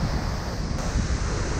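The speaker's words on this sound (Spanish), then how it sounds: "Miren cómo está de grande esta cascada." The large Condor Machay waterfall roaring, a loud continuous broadband rush of falling water heard close up amid spray and wind noise, with no voices over it.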